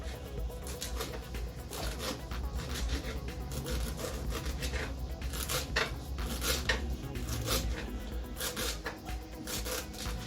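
Knife chopping ingredients for a desi omelette, with coriander among them, on a wooden board in a home kitchen, a steady run of close, fairly quiet cuts and scrapes that continues without talk.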